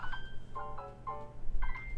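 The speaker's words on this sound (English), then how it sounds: "That was just my ringtone" A phone ringtone plays a short melodic sequence of bright electronic tones in repeating phrases, clear and moderately loud over a low background hum.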